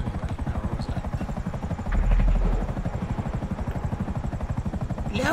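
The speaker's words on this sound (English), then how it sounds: "Oh, it's a helicopter." A helicopter passes overhead in a video game, its rotor thumping in a fast, steady rhythm, loud and close throughout, with a brief deeper swell midway.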